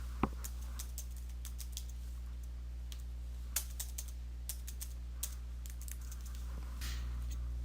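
Keystrokes on a computer keyboard come as scattered, sharp clicks at an uneven pace over a constant low electrical hum, with no talking.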